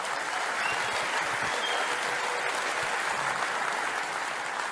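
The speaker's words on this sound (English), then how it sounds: "So a round of applause for the farmers." Steady, dense applause from a large crowd fills the whole stretch, loud and unbroken.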